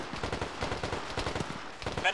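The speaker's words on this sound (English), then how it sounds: "There's grenades and stuff going off" Gunfire and grenades go off in a military battle in the video game Arma, a quick run of rhythmic automatic shots close by, with talk mixed in.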